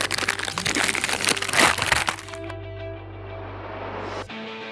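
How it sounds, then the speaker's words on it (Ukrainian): A zip-lock bag from a South Korean military ration pack is opened: crinkly plastic rustling and crackling for about two seconds, followed by a quieter stretch with a soft click near the end. "Відкривається, е, як і зіп-пакетик любий"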